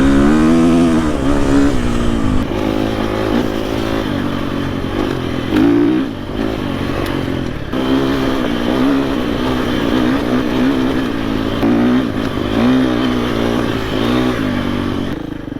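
A KTM 350 EXC-F dirt bike being ridden, its engine droning loud and close with rising and falling revs and occasional clatter, continuous throughout.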